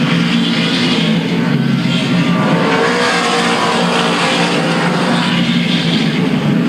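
Late model race cars roaring around Louisville Motor Speedway during the 1998 Bluegrass 300, a dense, continuous loud engine drone from a pack of cars at speed, steady with slight swells as they pass.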